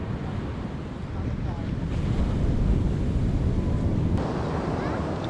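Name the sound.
strong ocean waves on the shore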